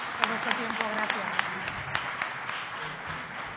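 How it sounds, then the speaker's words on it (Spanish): An audience at an entrepreneurship culture round table claps in a moderate, fairly distant burst of applause, with a few sharp individual claps standing out and speech faintly underneath. "Gran aplauso para ellos."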